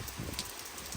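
Steady rain pours down heavily outdoors in a village, a dense, even hiss with no voices.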